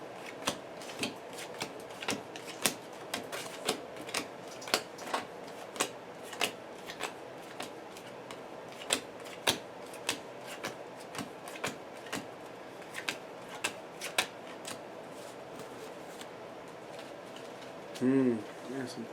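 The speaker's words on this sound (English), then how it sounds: "Miss Marvel needs to shuffle." A deck of Marvel Champions cards shuffled close up, with a quick run of crisp riffling clicks and snaps repeating throughout and a brief voice near the end.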